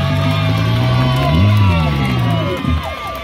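A crowd at a children's contest in Crotona Park cheers and whoops for a boy in red, loud and close, with children's shouts and an adult voice carrying over the noise.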